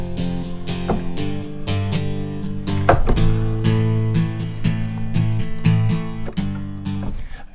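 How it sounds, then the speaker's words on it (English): UJAM Amber, a virtual strummed acoustic guitar instrument running in Logic, plays rhythmic chord strums with bright attacks and sustained ringing chords, clear and alone with no voices. "I've opened Logic and I've got Amber up and running from UJAM, which is their virtual guitar, strummed guitar instrument."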